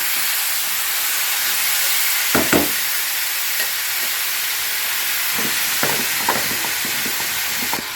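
Chicken frying in a pan for a Bengali chicken posto gives a continuous close sizzle and hiss, broken now and then by soft stirring clicks and pops.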